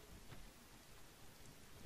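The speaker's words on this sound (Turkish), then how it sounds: "yağmur yağıyor" Steady rain falls in the survival game The Forest, a continuous broadband hiss without pauses, with no voices over it.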